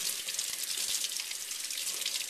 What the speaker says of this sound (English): Still rinse off the apple